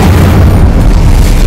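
The Incendio fire spell cast in Hogwarts Legacy, a loud, continuous booming roar of flame that stays dense and heavy, with no talk over it.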